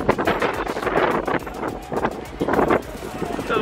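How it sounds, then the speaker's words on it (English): Gusty wind rumbles against the microphone in uneven bursts near the Eiffel Tower in Paris, with someone talking intermittently over it. "It's a little bit windy, but it's nice and mild."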